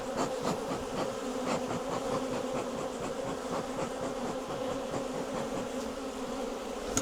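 Honey bees buzz steadily from an open hive, a dense, continuous drone close by with no voices, holding an even loudness for the whole stretch.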